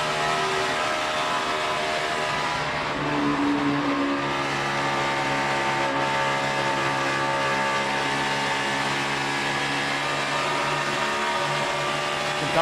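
NASCAR stock cars race at Texas Motor Speedway in the 2014 AAA Texas 500, Jeff Gordon's car among them, their engines a loud, steady, continuous roar with shifting pitch as the pack runs together, no voices over it.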